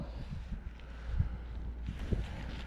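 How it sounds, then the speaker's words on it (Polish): Wind gusts over an open field, low rumbling buffets against the microphone, fairly faint and uneven with occasional stronger puffs. "ale wieje"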